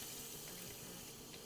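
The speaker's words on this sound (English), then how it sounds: "I'll turn the faucet on" A kitchen sink faucet runs, giving a steady, soft hiss of flowing water at low level throughout.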